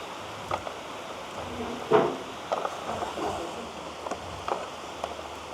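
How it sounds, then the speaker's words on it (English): Rain falls outdoors as a steady, close hiss with scattered louder drops and patters, no voices over it. "rain."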